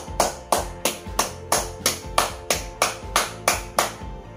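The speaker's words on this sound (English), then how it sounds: "Let's give them a big round of applause." At a dance recital, clapping for the dance teachers comes as a slow, evenly spaced series of about a dozen crisp, loud claps, one roughly every third of a second, with no talk.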